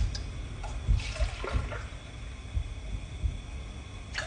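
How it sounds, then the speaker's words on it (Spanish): Milk pours into a cooking pot, a soft steady liquid trickle with faint splashing, close and fairly quiet, lasting a few seconds without talk. "Primero 4 tazas de leche para la olla."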